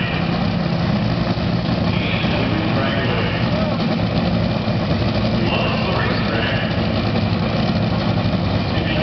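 Nitromethane top fuel dragster engines at Rockingham Dragway produce a loud, continuous rumbling roar heard from close by, with a crowd-like wash of noise and some talking underneath.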